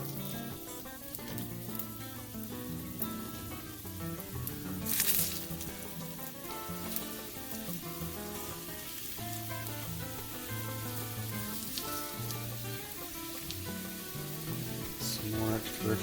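Falafel patties slid into hot extra virgin olive oil sizzle and crackle steadily and close by, a dense frying hiss throughout with occasional louder pops.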